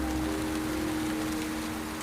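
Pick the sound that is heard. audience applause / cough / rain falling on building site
rain falling on building site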